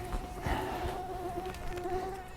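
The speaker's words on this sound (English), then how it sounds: "I hate mosquitoes." A mosquito buzzes continuously and close by, a thin steady whine that wavers slightly in pitch, over a low background rumble with no voices.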